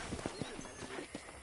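Horse hooves clip-clop at a steady walking pace in the Western video game Red Dead Redemption, close and moderately loud, with a faint whinny-like tone among the steps.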